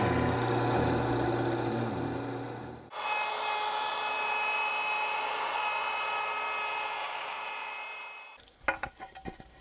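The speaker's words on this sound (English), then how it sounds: "Let's get over to the drill press and get this weight relief stuff hogged out of here." A drill press hogging out weight-relief cavities in a wooden guitar body, a sustained loud grinding whir that drops briefly once, runs on steadily, then stops and gives way to a few sharp knocks.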